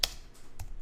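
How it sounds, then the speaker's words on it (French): Keys tapped on a computer keyboard while a title is entered in Adobe InDesign 2017, with a sharp keystroke cluster at the start and another around the middle, quiet and close, with no voices. "je vais taper le titre"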